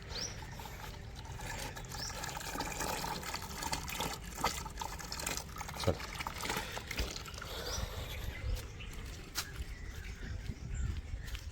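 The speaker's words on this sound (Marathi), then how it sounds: "इथनं इथनं असं तिकडं राहणार इकडं असं या साईडनं पाणी आलं बघा आता पाणी देतो" Borewell water flowing into a wheat field, a continuous gushing, trickling stream heard close and steady, with faint outdoor ambience and no talk.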